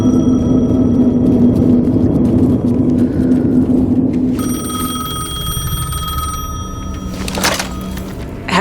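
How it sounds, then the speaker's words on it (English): A payphone rings in the Alan Wake 2 video game, with steady bell-like tones sounding after a few seconds over a low rumbling ambience. "The payphone was ringing."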